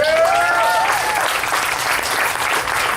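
An enthusiastic crowd at a Relay for Life event claps in a dense, sustained burst of applause, loud and steady across the whole moment, with faint voices mixed in.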